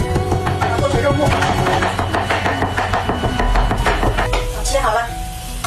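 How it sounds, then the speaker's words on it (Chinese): A kitchen knife chops meat into mince with rapid, steady blows on a cutting board, the dense rhythmic knocking continuing close and loud throughout. "洗干净之后把这个肉切成肉末，家里没有搅拌机，我就用这个刀切了。"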